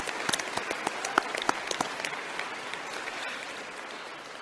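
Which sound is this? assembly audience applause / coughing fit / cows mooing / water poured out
assembly audience applause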